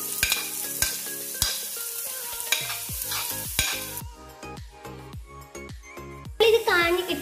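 Sliced onions dropped into hot coconut oil in a pan, with repeated sharp clinks and scrapes of stirring over a steady close sizzle that thins out, ending in a brief louder crackle.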